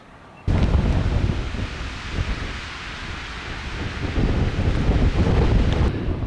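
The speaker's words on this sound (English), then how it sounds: "Still have some cold wind and random little snow flurries here and there." Cold mountain wind in Washington's Blue Mountains gusts hard across the microphone, a loud roaring rumble that begins suddenly and keeps going, with no voices.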